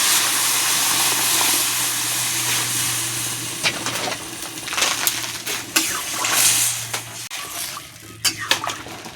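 Water is poured into a simmering fish and taro curry in a pan, a loud hissing, sizzling gush that breaks into bubbling and clatter as it settles.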